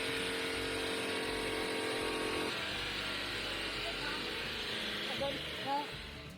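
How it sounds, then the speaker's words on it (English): A Mazda engine with one spark plug left out runs rough, with a steady uneven drone and misfiring pulses. A voice talks over it throughout. "The owner of this Mazda had changed his own spark plugs, but forgot to install one of them, and his car ended up sounding like this"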